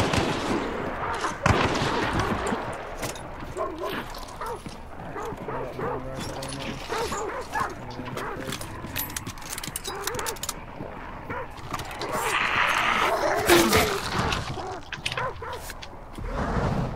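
Dogs barking in the Hunt: Showdown video game amid a busy mix of gunfire and distant shots, the barks intermittent and partly buried under the din, with some faint talk.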